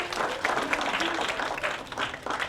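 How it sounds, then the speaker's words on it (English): A seated audience at a talk event applauds speaker Leo Consul, a dense, steady wash of clapping throughout, with a faint voice briefly heard beneath it. "Round of applause for Mr."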